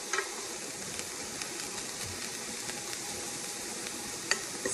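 Onions sweating in a pan with veggie broth, a soft steady hiss and gentle crackle up close, fairly quiet and even, with a faint stir tap near the end.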